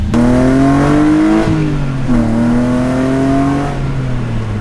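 A BMW E30's engine revs hard and accelerates through gears, the pitch climbing, dropping at each shift and climbing again; loud and close from inside the car, with no talking.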